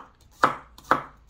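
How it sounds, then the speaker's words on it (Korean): Kitchen knife chopping vegetables such as garlic on a cutting board for Korean radish water kimchi (dongchimi): three sharp, close chops at an even, unhurried rhythm, with no talking. "야채를 다 썰어서"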